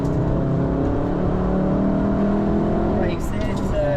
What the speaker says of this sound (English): off the brakes, back on power